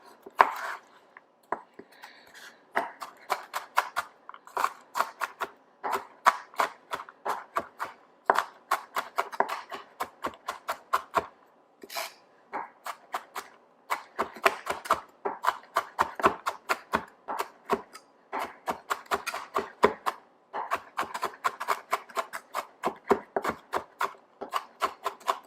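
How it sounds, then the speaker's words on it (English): A knife chops food roughly on a cutting board for Filipino bistek tagalog, with quick, crisp taps in irregular bursts that stay close and clear and run throughout with no talk. "just going to give this a pretty rough chop here."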